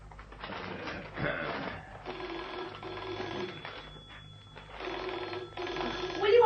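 A telephone bell rings in a radio drama set in a vicarage, sounding in repeated bursts, fairly close and clear, with faint background tones underneath.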